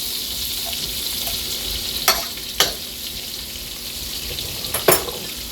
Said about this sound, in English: We don't want to brown the butter. We just want to kind of melt it up.